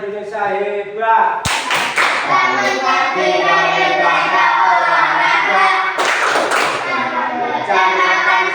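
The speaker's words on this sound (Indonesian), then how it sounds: "Mari kita bertepuk semangat." Schoolchildren in a classroom perform a rhythmic clapping chant, loud close hand claps in a regular beat mixed with sung, chanted voices throughout.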